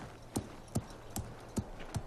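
Rescue horses' hooves clip-clop at an even walking pace, five clear strikes about every 0.4 seconds, close by and alone with no talking over them.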